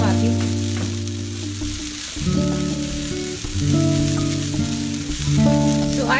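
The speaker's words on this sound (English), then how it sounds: "I generally fry it till the coconut is brown." Chopped red radish with its leaves and grated coconut fry in a pan, South Indian style, giving a strong continuous sizzle broken by stirring scrapes, with no voice over it.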